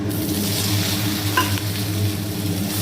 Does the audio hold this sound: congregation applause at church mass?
no